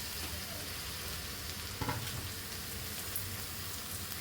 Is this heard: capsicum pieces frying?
yes